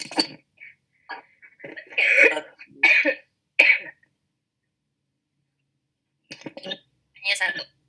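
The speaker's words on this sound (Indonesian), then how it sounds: "saya sudah batuk tidak terhentikan" Several harsh coughs in quick bursts, a pause, then a couple more coughs, close to the listener.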